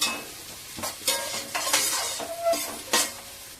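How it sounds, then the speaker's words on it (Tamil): Green chillies sautéing in a pan, a close crackling sizzle broken by several sharp bursts as a spoon stirs and scrapes the pan, with a faint metallic clink. "பச்சை மிளகாவும் போட்டுக்கலாம். நல்லா வதங்கட்டும்."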